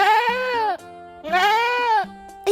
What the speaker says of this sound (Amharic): ፍየል መጮሁን ቀጠለ